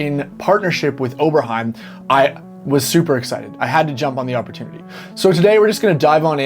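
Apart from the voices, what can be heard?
No everyday noises stand out.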